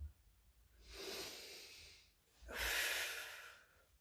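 Two long, breathy airflows during a Pilates roll-up exercise, an inhale followed by a louder exhale after a short pause, close and with no talk.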